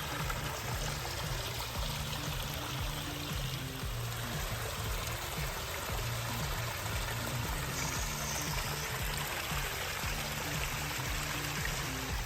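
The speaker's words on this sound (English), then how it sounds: "So the waterfall's essentially done." Water pours steadily down a newly built backyard waterfall water feature, making a continuous, even rushing and splashing sound with no pauses.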